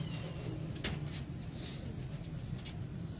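A red-eyed pigeon coos softly on a rooftop, with low, rhythmic murmuring calls. They are faint and distant under light background noise.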